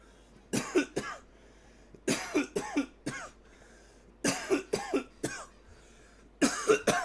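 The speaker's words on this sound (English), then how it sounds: "Oh, that is tasty coughs" Someone coughs in four separate bursts of several harsh, close coughs each, with short quiet pauses between them.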